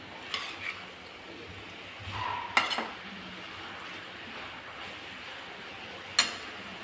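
Vegetables and soya chunks masala cooking in a pan, with a soft steady sizzle and a few sharp clinks of a utensil against the pan, no voices.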